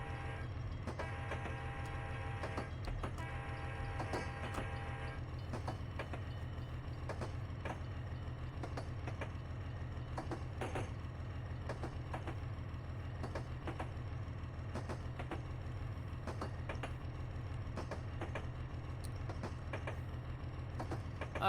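A freight train rolls steadily in a train simulator game, a continuous low rumble of wheels on rail with repeated clicking joints and a brief higher whining tone near the start, close and loud throughout.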